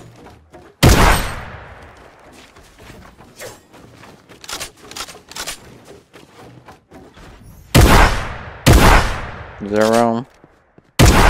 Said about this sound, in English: We're gonna test the max range of the shotgun.